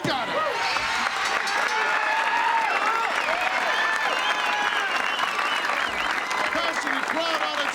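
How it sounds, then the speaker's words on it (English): Wrestling crowd applauding and cheering on its feet after a pinfall at a 1985 WWF event, a dense, steady roar of clapping and voices filling the whole stretch under an announcer's commentary. "crowd on its feet, showing their approval"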